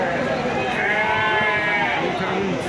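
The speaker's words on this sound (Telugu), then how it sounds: "మంచి పొట్టేళ్ళు ఉన్నాయి." Rams bleat at a busy livestock market, several overlapping wavering calls close by against a background of crowd voices and talk.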